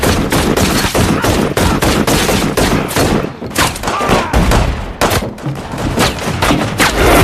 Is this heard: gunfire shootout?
yes